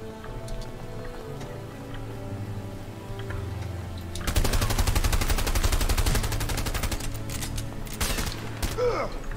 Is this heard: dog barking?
no